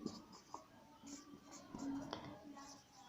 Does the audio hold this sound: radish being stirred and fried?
no